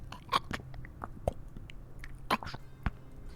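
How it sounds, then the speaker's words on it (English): Chewing sounds come in close, with scattered wet crunches and bites spaced irregularly over a quiet, dark background hum. "And as you approach, there's this sound of chewing."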